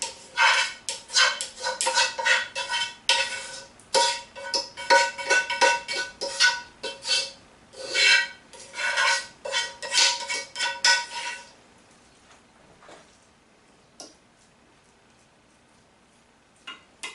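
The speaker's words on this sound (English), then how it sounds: "take your bacon and onions, and we're going to spread that right over the top of that" A spoon scrapes and clinks against a dish, spreading bacon and onions over potatoes for tartiflette, with rapid repeated clatter for about eleven seconds, then near silence with a few faint taps.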